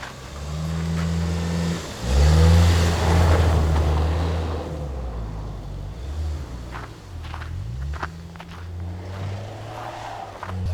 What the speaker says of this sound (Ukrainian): Що ви знаєте про дрифт на передньому приводі?